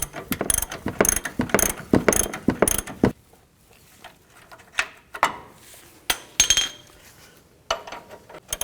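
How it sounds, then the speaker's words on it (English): A wrench ratchets and clinks while tightening a nut on the front upper control arm of a 1999-07 Chevy Silverado 2500, a quick run of close clicks and then sparser metallic taps. "Put the wrench on there. And tighten this down."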